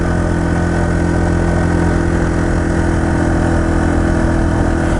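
A Yamaha TT-R230 dirt bike engine idles close by with a steady, unbroken low rumble and no talking.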